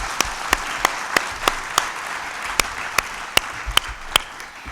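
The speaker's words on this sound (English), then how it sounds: "Please give them a round of applause." Applause at the closing session of a World Export Development Forum event, steady crowd clapping with a few sharp, distinct claps standing out near the microphone, continuing evenly throughout.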